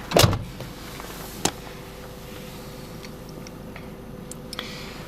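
A 2002 Opel Corsa C 1.2 16V engine idles with a steady low hum, broken by a sharp click at the start and a few faint ticks.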